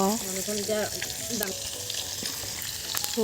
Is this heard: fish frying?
yes